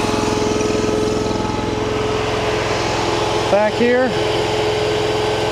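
A warm engine runs beside a hydraulic pump, giving a steady, close mechanical drone with a buzzy harmonic hum throughout, while someone briefly speaks over it.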